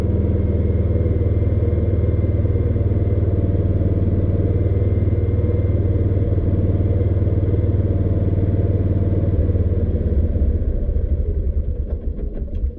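A 2016 Kawasaki Mule 610 utility vehicle engine idles steadily with a close, loud low rumble and faint clatter, holding one continuous pitch with a slight dip near the end as the idle is brought down.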